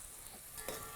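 Faint, steady sizzling of Andhra egg curry in a pan as tomatoes go in, a soft continuous frying hiss with a slight rise near the end and no talk.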